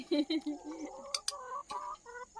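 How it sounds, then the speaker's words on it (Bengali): Red-golden village chickens clucking nearby in a rural Bengali yard, short repeated clucks in an uneven rhythm, with a few sharp higher calls midway. "ঠাকুমার মুরগিগুলো সব এক কালারের হয়েছে একদম লাল টুকটুকি সোনালি মুরগি"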